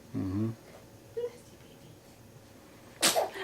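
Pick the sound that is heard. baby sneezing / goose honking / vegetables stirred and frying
baby sneezing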